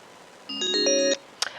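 A telephone line connecting to a witness during a Rhode Island Senate committee hearing: a short run of clean electronic ringing tones, followed by a brief click.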